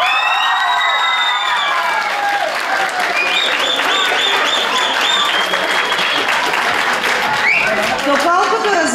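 An audience applauds steadily in a hall, a dense wash of many hands clapping throughout, with some cheering and voices mixed in.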